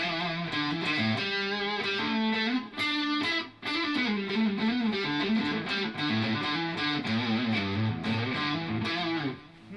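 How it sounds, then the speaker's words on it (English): A distortion effect on an instrument during a live band stream, a thick, buzzing, continuous sound with only brief dips, loud throughout and with no talking over it. "And we'll go with some distortion this time."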